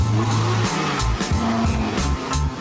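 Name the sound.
car engine revving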